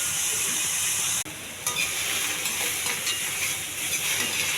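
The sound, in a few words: beans frying in a pan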